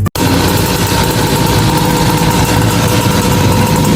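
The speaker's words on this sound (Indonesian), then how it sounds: "itu orang berisik banget motornya" A loud motorcycle engine idles nearby, a steady dense rumble that runs almost the whole time after a brief gap at the start, with no talking.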